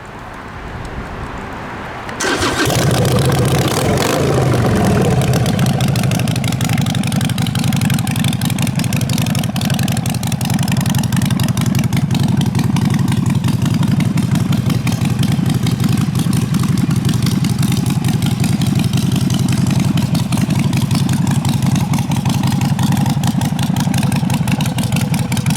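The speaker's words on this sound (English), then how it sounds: "Obviously it runs really good because it's a brand new motorcycle." A 2021 Harley-Davidson Sportster 883 Iron V-twin fires up after a brief moment of quiet, then settles into a loud, steady, rumbling idle that continues close and unbroken to the end.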